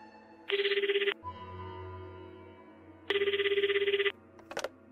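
A telephone rings twice, two loud bursts of rapid electronic trilling about a second each, separated by a quiet pause over a low background hum.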